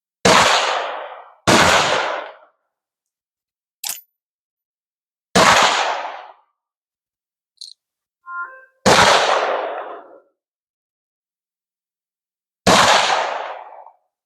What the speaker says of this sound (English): So here we are at the range with the Smith Carbine. We're going to take a couple shots and see how she does.